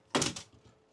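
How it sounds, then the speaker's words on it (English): A travel trailer's built-in screen door swings shut with one sharp, close clack, followed by a brief faint rattle as it settles. "So maybe we want to shut the screen door."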